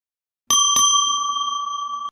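An elevator bell dings twice in quick succession, bright and clear, then its tone rings on and slowly fades for over a second.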